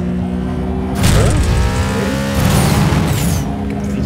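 A jet car in the video game Jet Car Stunts roars loudly as it accelerates, with a sudden surge in thrust followed by a second burst, a sustained mechanical whine underneath.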